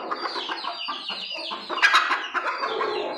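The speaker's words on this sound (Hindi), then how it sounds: "बल्कि अभी इधर बैठी हुई है मुर्गी" A hen in a village yard clucks in a steady run of short calls, close by, with other poultry faintly around and no talking.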